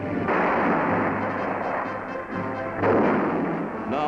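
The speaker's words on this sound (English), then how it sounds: "And 75-millimeter cannon, firing from the sky, can and have sunk a destroyer." A 75 mm cannon firing from a B-25 bomber, heard as loud booming blasts over a steady engine drone, with one burst near the start and another about three seconds in.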